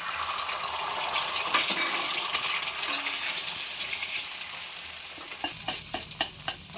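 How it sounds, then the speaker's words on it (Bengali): Beaten eggs scramble in hot oil in a wok, a steady loud sizzle with spatula scrapes and a few sharp metallic taps near the end, no talk. "ডিমটা ঝুড়ি ঝুড়ি করে ভেজে নেব।"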